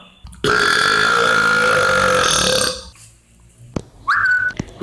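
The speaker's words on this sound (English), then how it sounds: "Let's see who burps louder." A long, loud, sustained human burp rings out alone for over two seconds, then after a brief pause a second, shorter rising burp follows close to the microphone.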